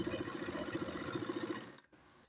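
A sewing machine runs a straight line of stitches, its quick, even mechanical chatter close and steady before it stops abruptly near the end.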